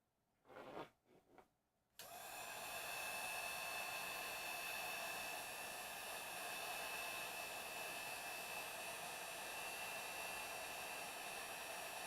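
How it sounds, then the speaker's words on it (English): Heat gun switched on after a few handling knocks, then a steady, even breathy blowing hiss held close and continuous for around ten seconds. "Now I gotta get my heat gun set up."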